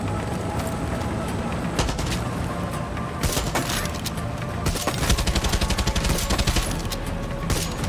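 A gun fires in short rapid bursts in Far Cry 6, sharp cracks clustering into rattling volleys that grow denser toward the end, while someone talks over the shooting.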